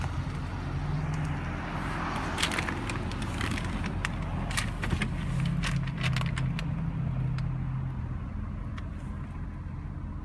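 Car keys for a 2007 Chevrolet Corvette jangle in quick metallic clinks and rattles, close and bright, over a steady low engine idle in the background.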